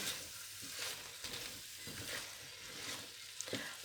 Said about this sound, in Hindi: 2 मिनट भून लिए, साथ ही हम मिर्चें शामिल कर देंगे।